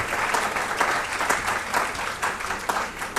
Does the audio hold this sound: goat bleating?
no